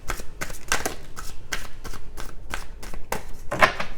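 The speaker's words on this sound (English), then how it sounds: "One more shuffle." A deck of cards is riffled and shuffled repeatedly, crisp rapid bursts of flapping card noise close up, about eight quick shuffles in a row.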